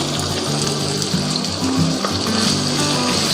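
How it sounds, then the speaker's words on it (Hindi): Half a cup of water poured into a pan of frying mutton liver with tomatoes, a steady gushing splash and sizzle heard close and continuous. "इसको आधा कप पानी डालकर कवर करके रख दूंगी"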